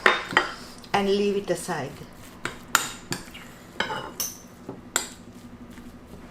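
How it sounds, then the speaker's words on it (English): A spoon stirs oats into boiling water in a bowl, giving uneven clinks and scrapes against the dish with short gaps between, close and fairly crisp, while a voice briefly speaks near the start. "add 100 milliliters boiling water and mix it"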